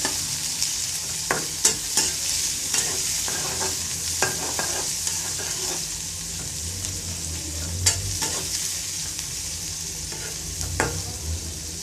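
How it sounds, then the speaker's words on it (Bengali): Onions frying with garlic and green chili in a pan for a dried-fish curry, a constant close sizzle broken by repeated scraping knocks of a spatula stirring at uneven intervals, with no talking. "পেঁয়াজটা ভালো করে ভাজা হয়ে গেছে"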